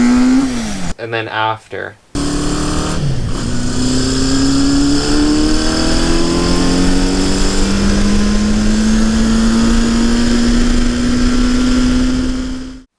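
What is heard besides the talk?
1970 Honda CB500 motorcycle engine running and revving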